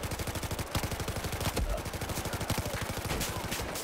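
MG4 light machine gun in Battlefield 4, fired in long sustained bursts of rapid, evenly spaced loud shots with only brief pauses.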